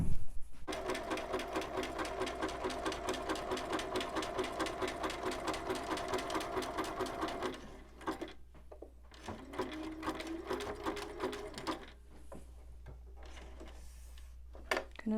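A sewing machine zigzag-stitches a fall leaves table runner in a steady, fast mechanical chatter for about seven seconds, then stops and gives a few shorter, quieter bursts with pauses.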